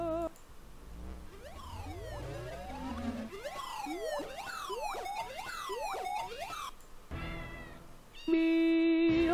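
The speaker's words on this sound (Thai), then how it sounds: "เหมือนเอาคำว่าเหมียวมาร้องเป็นโอเปร่านะครับ" Cat meows sung like opera, a string of long, sliding, wavering meows layered into melodic phrases and swooping up and down continuously, ending on a held, sustained tone.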